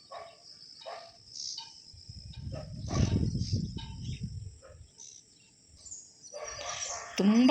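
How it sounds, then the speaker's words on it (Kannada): Many birds chirp in the early morning, their calls scattered across the clip above a steady insect-like buzz, with a louder low rumble rising midway and a sharp chirp near the end. "ತುಂಬ ಪಕ್ಷಿಗಳು ಬರುತ್ತೆ."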